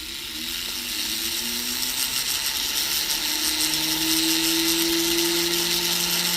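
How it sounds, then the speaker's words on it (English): Small rotary tool with a silicone wheel filing down a jewelry jump ring, a close, steady motor whine that shifts pitch as the wheel grinds against the metal, alone without talk. "we just used a silicone ring to file everything, or silicone wheel to file everything down"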